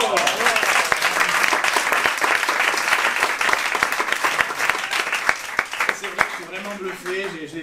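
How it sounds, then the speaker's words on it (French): Audience at an after-work business club event applauds loudly with dense continuous clapping and a few sharper claps, while a voice talks over it throughout. "on l'applaudit bien fort"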